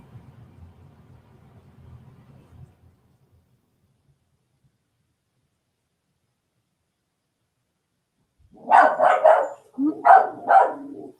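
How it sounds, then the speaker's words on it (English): Several pet dogs bark in a home, a burst of loud barks close by after a long quiet stretch, preceded by faint low murmuring. "you can hear my ding-dong dogs. They bark at the air."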